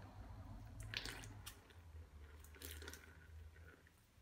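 A wet wool knit being squeezed and pressed by hand to wring out water, soft squelching and dripping sounds in short bursts, very close and faint, no talking.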